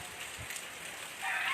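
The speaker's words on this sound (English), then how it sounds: "It's raining, it's windy, it's cloudy, gloomy" Rain falls steadily outdoors on a windy, gloomy day in a quiet neighborhood, a soft continuous hiss that swells louder toward the end, with no one talking.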